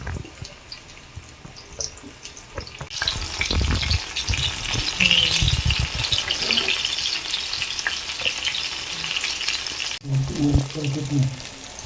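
Mushroom rava fry crackling in hot oil, a steady close sizzle running throughout with a louder burst as pieces go in partway and stirring clatter near the end.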